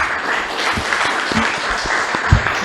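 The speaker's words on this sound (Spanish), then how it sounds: "Vamos a recibir con un fuerte aplauso" Audience applause welcomes a speaker at a legal conference on preventive detention, a moderate steady patter of clapping with a few sharper individual claps standing out.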